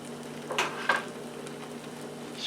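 A grilled cheese sandwich sizzles in a pan with a faint, steady frying hiss, broken by a couple of light scrapes and clicks from a spatula.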